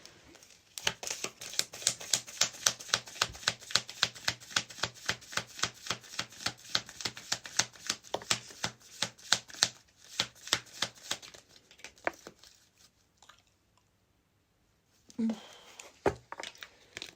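Tarot cards being shuffled by hand in a rapid, regular run of crisp riffling snaps for about twelve seconds, close and fairly loud, then a short pause before a few final taps and card handling.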